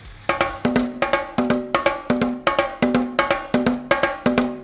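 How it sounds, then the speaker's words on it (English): Strokes alternate between two drums in a steady repeating pattern, with a higher ringing hit and a lower tone trading off. The drumming is close and lively, about twenty hits, with no talking. "If we wanted to create a circle of 2 with 2 drums,"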